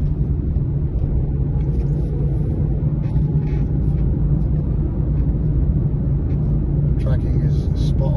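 A Mazda 2 with a 1.5L diesel and six-speed manual gearbox drives along, giving a steady low engine and road rumble from inside the cabin, with a person talking over it.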